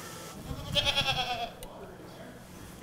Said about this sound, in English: Like sheep and goats.